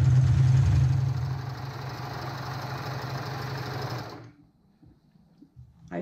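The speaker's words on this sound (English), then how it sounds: "I am always top stitching my" A sewing machine runs steadily as it top stitches a t-shirt neckband, a close, continuous mechanical whir that stops abruptly after about four seconds and leaves near silence with faint handling sounds.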